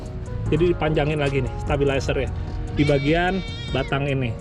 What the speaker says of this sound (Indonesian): Ada kambing lagi nyebrang.